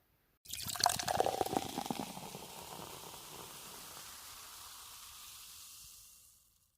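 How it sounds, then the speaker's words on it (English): A pint of beer is poured into a glass: a sudden gushing start, strongest in the first second or two, then a steady, even fill that slowly tapers off and stops, close and clear with no voices. "I'll pour you a pint."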